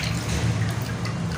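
About one kilogram of melted ghee is poured into two litres of water for samosa dough, giving a steady, close liquid trickle and splash that runs continuously over a low background hum.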